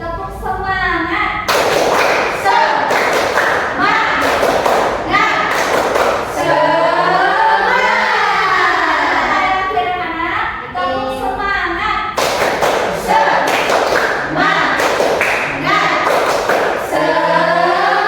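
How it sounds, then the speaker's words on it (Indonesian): A group performs the rhythmic 'tepuk semangat' spirit clap during a school group guidance session, loud claps in repeated patterned bursts with voices chanting along between them. "Seperti biasa kita menggunakan tepuk tangan ya. Semangat. Tepuk semangat."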